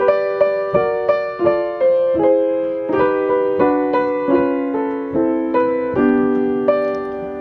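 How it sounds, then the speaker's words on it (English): Solo piano plays a stepwise melody harmonized in descending thirds, notes struck one after another at a moderate steady pace, each ringing and fading cleanly. "Harmonized in the descending thirds, it sounds like this."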